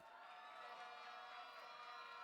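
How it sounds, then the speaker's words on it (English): Sustained applause and cheering from the audience at the Mr. & Ms. Campionite 2024 pageant, a steady dense wash of clapping that holds even throughout. "let's just clap them one more time"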